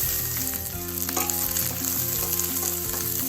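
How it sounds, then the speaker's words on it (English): Chopped onion and four or five dry red chilies sizzle steadily in a pan for tomato chutney while being stirred, a continuous close frying hiss with music playing underneath and no talking. "Just keep stirring"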